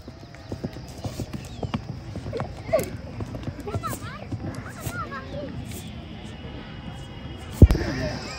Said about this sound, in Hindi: घोड़े को कंट्रोल करने की कोशिश करें। ओ गया इमरान घोड़ा लेके।